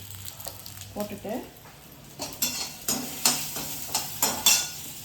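Pumpkin, curry leaves and a green chili hit hot oil with a soft sizzle, followed by clinks and scrapes of a spoon stirring against the pan in a steady, fairly close rhythm.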